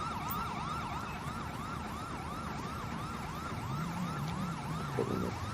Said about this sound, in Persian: آژیرش هم روشن مونده این باز